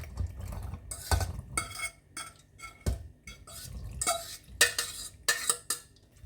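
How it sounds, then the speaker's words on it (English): A wooden spoon folding macaroni into a thick cheese sauce in a pot on a stove, with irregular wet stirring scrapes and soft squelches in uneven bursts, close up and without talk. "Using a wooden spoon, gently fold it into the sauce."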